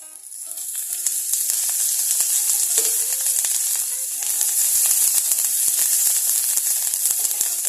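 Green chillies sizzling and crackling in hot oil in a home kitchen pan, a loud continuous hiss dotted with sharp pops and spits throughout.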